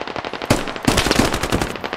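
Rapid automatic gunfire in the military shooter game Squad comes in close, loud bursts of sharp cracks that fire back to back for about two seconds.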